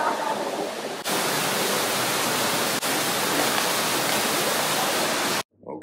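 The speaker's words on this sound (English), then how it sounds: "so they've got a waterfall down in here." Steady roaring rush of a waterfall in Barbados, broad and continuous, with a brief cut near the end.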